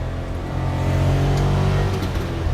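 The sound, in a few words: Suzuki Carry 660 accelerating at full throttle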